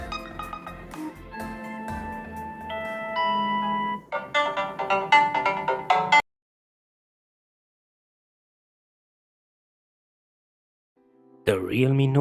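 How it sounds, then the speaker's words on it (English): Ringtones from a Realme Note 60 phone play as bright melodic chimes and tones, followed by a second jingle after several seconds of silence near the end, moderately loud with no talk. "Let's check how ringtones sound on this phone."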